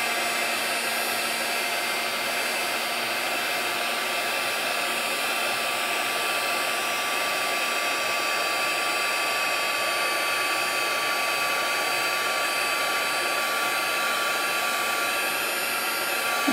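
A heat tool blows continuously while embossing powder melts on a paper craft, giving a loud, unbroken hair-dryer-like whir with a steady high whine that holds from start to finish.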